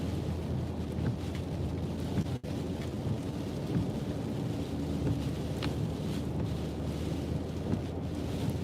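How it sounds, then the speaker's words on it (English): Rain during Hurricane Florence mixes with wind buffeting and a deep rumbling roar in a continuous, loud wash, with a brief dropout partway through and no speech. "It's raining."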